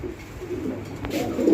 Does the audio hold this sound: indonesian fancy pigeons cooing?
yes